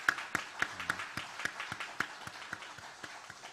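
Applause rises from a church congregation celebrating eight graduates of a sixth class, with distinct individual claps in a steady, moderately paced rhythm, fairly quiet and somewhat distant.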